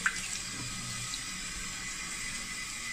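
Tepid tap water runs steadily while an animal is washed off, a soft continuous splashing hiss at close range with no talking.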